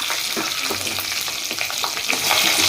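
Chana dal, urad dal, dried red chilies and cumin frying in hot oil for idli rava upma, giving a steady, dense sizzle with stirring and spattering close by throughout. No talking.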